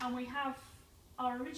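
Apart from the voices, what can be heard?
No everyday noises stand out.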